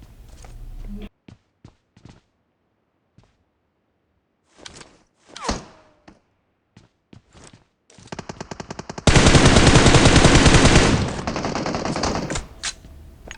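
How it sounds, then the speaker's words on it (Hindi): Sustained bursts of automatic gunfire from a battle royale video game, with scattered single shots and footstep-like thuds early on, then a long, loud continuous stream of rapid fire near the end. "लेकिन भाई इसकी गोलियां रुक ही नहीं रही"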